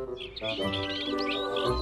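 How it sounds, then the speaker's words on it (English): Little cartoon birds chirp and tweet continuously in a bright, busy chorus over a light musical background, steady and fairly loud throughout. "But what about those little birds?"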